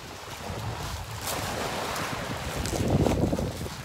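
Sea waves washing onto a beach at Chemitokvadzhe near Sochi in May, a continuous rushing surf mixed with wind buffeting the microphone, swelling louder toward the end.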